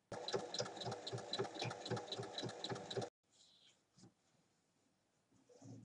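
Sewing machine stitching together the long edges of a fabric pouch with handles, a steady rapid mechanical rattle for about three seconds that then stops, followed by faint handling noises and a soft sound near the end.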